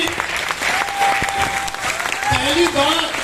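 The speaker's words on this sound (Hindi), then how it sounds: "एक बार मैं महागुरु जी के लिए जबरदस्त तालियां चाहता हूं" An audience at a business program gathering claps steadily, a sustained roar of hands with a voice speaking over the applause.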